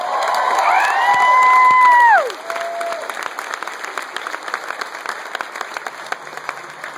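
Concert audience claps and cheers loudly with whoops at a show, the crowd noise strongest early, then settling into scattered steady clapping.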